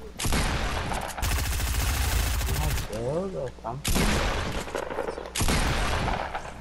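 Gunfire in Fortnite during a duo squads match at Tilted Towers comes in heavy, rapid bursts broken by short pauses, loud and close, with a player's voice briefly audible between volleys.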